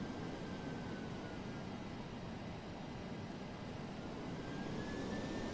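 Simulated four-engine McDonnell Douglas DC-8-73F jet engines from the FSX flight simulator drone in a steady, loud roar, rising and falling slightly as the engines spool up and down, with no talk over them.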